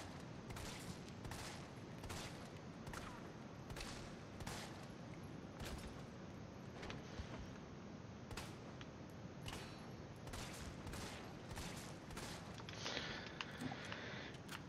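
Rapid pistol gunshots in the video game Resident Evil 3, a dense run of sharp reports repeating steadily at close range throughout, with no talk.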